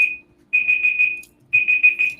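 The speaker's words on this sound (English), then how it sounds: "I'm not sure where the alarm has gone off, but Maria, if you could share us" An electronic alarm goes off in bursts of a shrill high-pitched beeping tone, a short beep followed by two longer pulsing blasts separated by brief silences, loud and clear with no talk.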